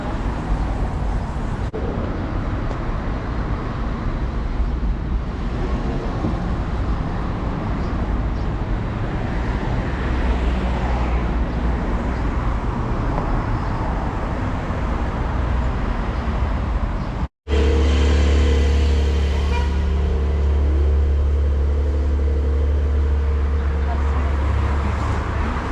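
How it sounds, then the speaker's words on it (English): City buses and general street traffic rumble through Pristina, Kosovo: a continuous roadway wash with passing engines, then a louder, nearer heavy vehicle idling with a deep low drone after a brief cut. "Buses here in the city."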